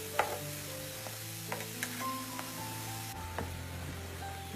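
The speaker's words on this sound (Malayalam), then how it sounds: "ഒരു സൈഡ് ഒന്ന് മൊരിഞ്ഞു വരട്ടെ" An onion and wheat flour snack frying in oil, a soft steady bubbling sizzle with occasional light clinks of a utensil, fairly quiet and close.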